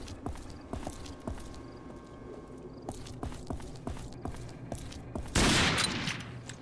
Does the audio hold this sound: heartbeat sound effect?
no